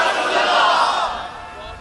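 A large crowd at a religious gathering shouts a slogan in unison, giving one loud, sustained roar of voices that fades slightly toward the end.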